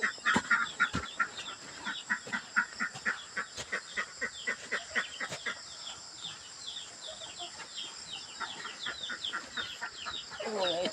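Brooding ducks at a pasture farm, a busy flock of rapid quacking and clucking calls repeating in quick bursts at close to mid distance, steady and continuous.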